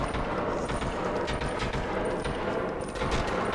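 Rapid, dense automatic gunfire in the PS2 game 25 to Life, continuous and loud throughout with no break.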